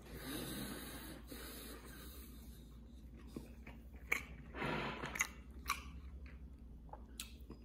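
Soft, close chewing of a dry, dense brownie topped with chocolate chips: quiet crunches and mouth sounds in uneven bursts, faint against a low background hiss.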